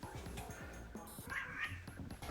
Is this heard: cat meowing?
yes